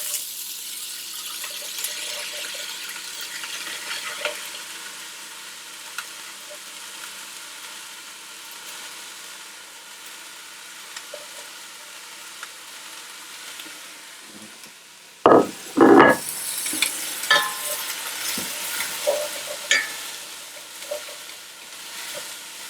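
Onions, carrots and celery cook in a pan with browned meat over lowered heat, giving a soft, steady sizzle that turns into brief louder clatters and stirring noises near the end.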